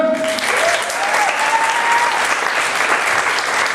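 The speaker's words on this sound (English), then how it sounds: "While you're applauding for this, for putting the conference together," An audience at the WVW 2011 writers' conference applauds steadily and loudly throughout, a dense even clapping with a brief whistle near the start.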